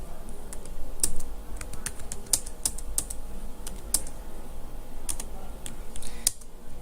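Keys clack on a computer keyboard running jewellery-management software, a close series of sharp, irregular taps with a few heavier, isolated strikes, faint background hum beneath.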